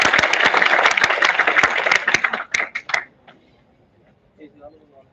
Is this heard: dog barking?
no